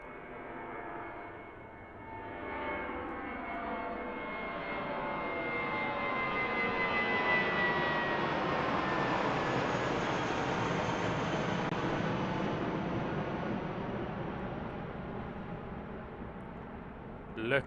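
A jet airliner takes off at Christchurch Airport in New Zealand, its engine roar building from a distant rumble to a loud sustained peak and then slowly fading as it climbs away.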